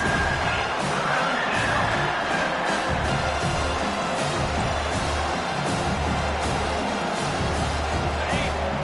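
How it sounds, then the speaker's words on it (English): Home crowd at a college football game roars steadily throughout, a dense sustained cheer with a play-by-play announcer talking over it. "Here comes this home crowd as the defense tries to get off the field on third down."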